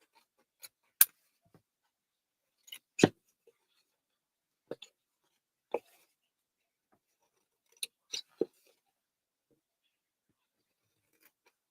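Scissors trimming paper in a quiet room, a handful of short, crisp snips spaced irregularly, close but soft, with no talking.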